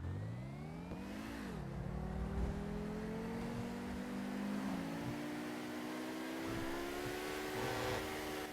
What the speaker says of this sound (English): It sounds like it's like some type of turbo in there.